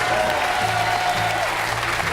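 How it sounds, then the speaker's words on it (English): Studio audience at a television game show pilot applauds, a loud, dense, continuous clatter of clapping that holds steady throughout. "round of applause for you"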